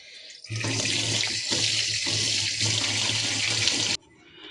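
A kitchen tap runs steadily for about three and a half seconds while coriander is washed under it, a close, full splashing stream that cuts off abruptly.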